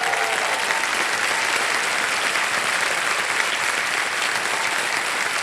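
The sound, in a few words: studio audience applause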